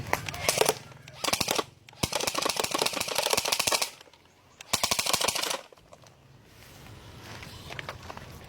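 Automatic gunfire from a long-range weapon firing system with a laser target designator, heard as dense rapid bursts in three loud stretches separated by short pauses, then quieter mechanical noise as the system reloads.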